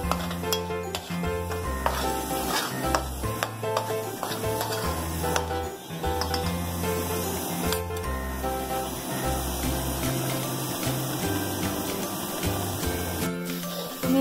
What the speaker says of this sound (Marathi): कांदा आपल्याला अगदी ब्राउन कलरचा होईपर्यंत परतवायचा आहे